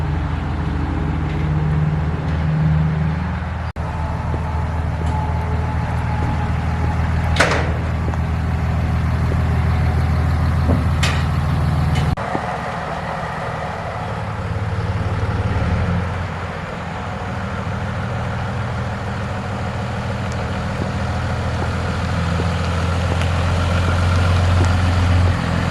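A borrowed truck drives along towing a rented trailer, its engine a steady low rumble and hum under continuous road and wind noise, with occasional faint rattles and a shift in tone partway through; no talking.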